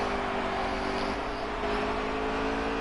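Race cars on throttle during an outlaw racing series event, a continuous engine drone with revving that stays steady at a distance, no talk.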